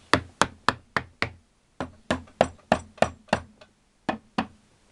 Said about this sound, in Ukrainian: Тепер спеціальним молоточком.